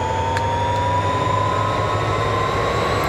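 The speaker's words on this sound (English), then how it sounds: "Very loud, these trains." An SD40-2 diesel locomotive in Train Simulator accelerates with a loud, steady engine roar and a rising whine, continuous and close throughout.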